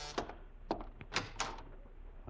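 A door opens in a 1949 CBS radio drama, with several distinct knocks and clunks of handle and latch spaced across a couple of seconds, close and fairly quiet.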